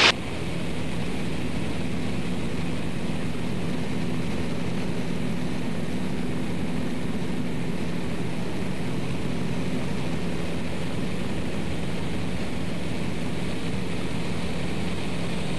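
Steady, loud drone of a propeller airplane engine during aerobatic flight, continuous and unchanging throughout.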